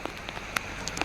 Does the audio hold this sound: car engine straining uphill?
no